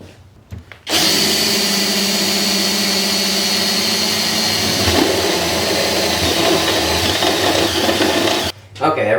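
A hand drill bores a pilot hole in a homemade guitar amplifier build, running loud and steady for about eight seconds with a continuous whirring grind, starting and stopping abruptly, with brief handling noise at each end.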